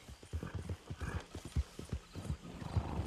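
A horse in Red Dead Redemption 2 trots along near a swampy stretch with steady, close clip-clop hooves and a brief neigh mixed in.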